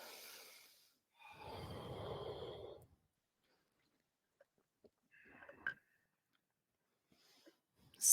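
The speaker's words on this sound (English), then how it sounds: "the rhythm of the breath, the sound of the breathing" During a yoga tree pose, slow, close breaths come through: a long exhale, then a fuller, deeper breath, then quiet before fainter, shorter breaths and a sharp intake at the end.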